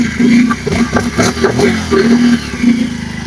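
A motorcycle engine putters and revs nearby in uneven bursts, its throaty rumble rising and falling over a few seconds.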